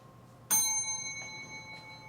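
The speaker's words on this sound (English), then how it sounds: "Is there a bell?" A service bell struck once sharply with a bright, ringing metallic tone that decays slowly, followed by two fainter taps.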